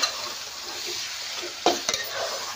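Masala with onion, coconut and ginger-garlic paste sautéing in a pan, a soft continuous sizzle with a couple of brief scrapes and clinks as it is stirred.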